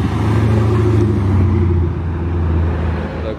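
A Porsche Cayenne approaches from behind and drives past on Monaco streets during preparations for the 2021 F1 Grand Prix, its engine a loud, steady low rumble throughout with no talking.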